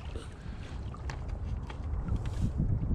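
A homemade electric boat motor runs in economy mode on the water, a steady low hum and churn mixed with wind buffeting and water splashing, fairly close and continuous, with no voices.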